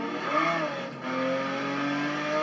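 Car engine in Forza Horizon 3 accelerating with rising revs, a steady loud drone with climbing harmonics and a brief dip midway, no talk.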